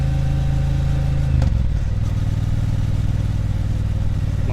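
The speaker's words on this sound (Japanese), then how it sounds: "で4000回転近くなるとね結構ブイーンって音になりますね。" A Triumph Bonneville T120 motorcycle engine drones at high revs near 4000 rpm, a loud steady buzzing hum with a brief shift in pitch partway through.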